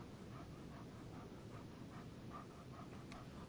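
A dog in the video game Life is Strange 2 pants softly in a steady rhythm with faint whimpers, quiet against a windy outdoor hiss.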